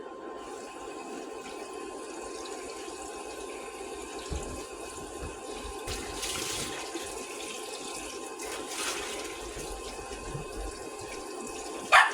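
Cold tap water runs steadily over cooked chicken in a sink, a constant close hiss with occasional splashes and no talking.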